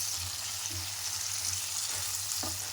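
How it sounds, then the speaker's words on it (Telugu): Boiled chickpeas and green peas frying in oil with turmeric for chole masala, a steady close hiss of sizzling with a few soft stirring scrapes. "ఇది కొంచెం ఫ్రై కావాలండి"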